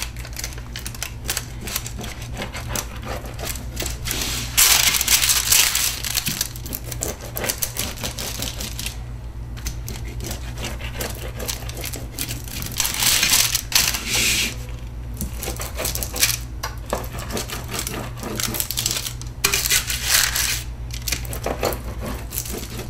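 A knife or pizza cutter crunches through a cauliflower crust pizza topped with melted cheese, giving rapid clicky, gritty cutting strokes in several loud bursts with quieter pauses between, close and without speech.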